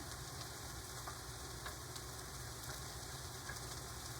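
Chicken pieces browning in a frying pan, giving a steady, close, even sizzle with faint crackles that runs unbroken from start to finish, quiet overall and with no talking.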